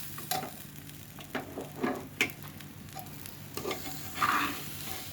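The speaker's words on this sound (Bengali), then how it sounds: "আমি সুন্দর করে ভেজে নেব চাউলটা" Fine, small-grained rice for polao is fried in a kadai, with a low sizzle under repeated scraping strokes of a stirring spoon, several distinct clacks and swishes at an uneven pace, close and without talk.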